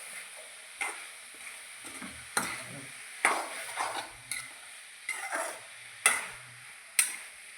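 Banana stem thoran with cooked mung beans being stirred, a spoon scraping the pan in a slow series of separate clacks and scrapes against a faint background.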